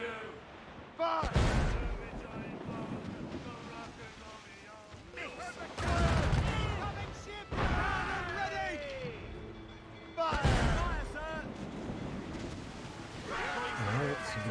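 Ship cannons fire in Assassin's Creed Rogue: four heavy, booming broadside blasts spaced a few seconds apart, each rolling on into crashing debris and sea-battle noise, with voices talking in between.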